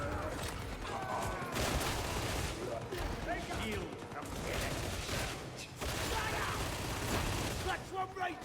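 Rapid machine gun fire in the Warhammer 40,000 Darktide video game, a dense sustained barrage of shots mixed with other combat noise, with a voice talking over it.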